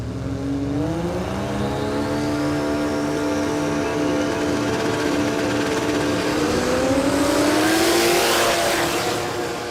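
A Toyota Corolla and an HG station wagon drag race at Warwick Dragway in a no-prep event, engines roaring loudly and continuously as they accelerate, the pitch climbing through the gears over nearly ten seconds.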